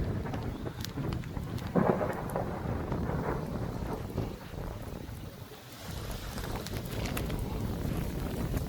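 A thunderstorm in Montreal, Canada roars with steady rain and wind buffeting the microphone, with low rumbles of thunder rolling underneath.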